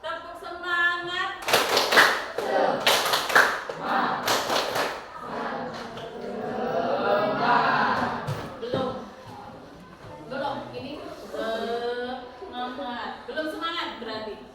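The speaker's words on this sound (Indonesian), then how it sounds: "Tepuk semangat" A class of students performs a rhythmic spirit clap in bursts of sharp, loud group claps, with a teacher talking and calling out between the rounds and a stretch of chanting voices.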